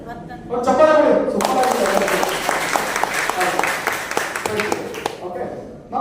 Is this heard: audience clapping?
yes